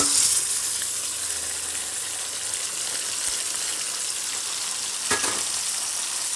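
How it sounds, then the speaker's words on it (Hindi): Chicken and onions fry in a pan with a steady, loud sizzle that runs the whole time, and a few scrapes of stirring break through it. No one speaks. "अब इसको सिर्फ फ्राई करते रहना है"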